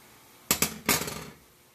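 A spoon clanks several times against a pan of mushroom sauce as garlic is stirred in, a quick cluster of sharp metallic knocks followed by a fading scrape.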